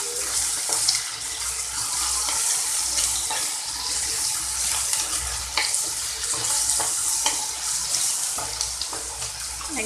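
Dal and water are stirred in a pot, producing a continuous watery sloshing and swishing with faint scraping, fairly close and steady throughout.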